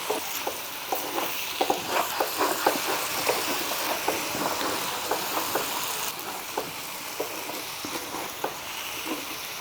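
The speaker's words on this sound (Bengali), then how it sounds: "তাই আমি একটু ঢাকা দিয়ে ভেজে নেব নাড়িয়ে নাড়িয়ে" Paneer shallow frying in oil in a kadai, a steady close sizzle with repeated light scraping clinks as the pieces are stirred at short intervals, no voices.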